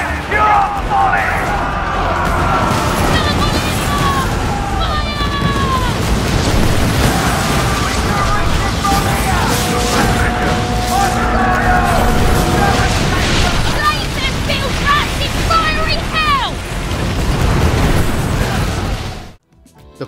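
Pirate ship battle in Skull and Bones: dense, loud barrage of cannon booms and bursts with crackling debris and shouts layered over a churning roar, cutting off abruptly at the end.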